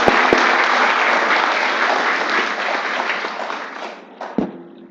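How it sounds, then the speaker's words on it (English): A campus talk-show audience applauds in a dense, steady burst of clapping that gradually thins and fades toward the end, with a couple of sharp knocks and no voices. "Please give a big round of applause."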